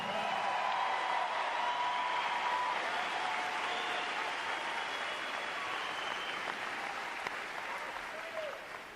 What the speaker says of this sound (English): That's right, you can cheer.